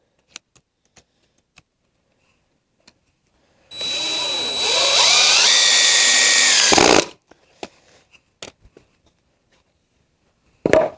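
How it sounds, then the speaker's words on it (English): Power drill driving a screw into a wooden target stand: a few light knocks and clicks, then one sustained whirring burst of about three seconds that rises in pitch and stops abruptly, followed by more handling taps. "so I'm gonna stick another screw in it"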